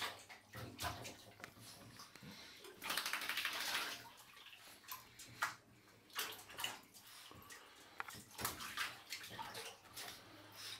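Water splashing in a bathtub with a rubber duck, fairly faint irregular sloshes and splashes coming in uneven bursts at close range, with no talk.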